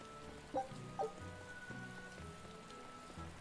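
Rainfall over the Port Renede docks in Tales of Berseria forms a constant soft hiss, joined by two brief chiming game sounds near the start and low ambient tones beneath, with no voices.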